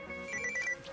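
A telephone rings in a new house in a film scene, a warbling electronic trill pulsing quickly over a faint room background, moderately quiet and without speech.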